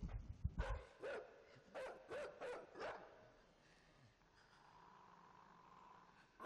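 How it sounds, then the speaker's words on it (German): Dogs in the side-scrolling game INSIDE bark and yip in a quick run of about five sharp, moderately loud barks, followed by a softer whining tail. "Das ist einer der Hunde da hinten, oder?"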